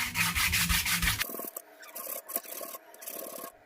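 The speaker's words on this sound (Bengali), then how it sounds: "এবার এটাকে একটু ঘষে মসৃণ করে নেবো।" The wooden body of a handmade khomok folk instrument is rubbed smooth, giving a loud, fast rasping scrub at first. Quieter, uneven rubbing strokes follow, close and with no talk.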